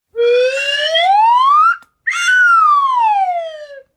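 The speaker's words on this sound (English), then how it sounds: "Play the slide whistle noise." A slide whistle glides upward in pitch, breaks off briefly, then slides back down; loud and close, no other sounds.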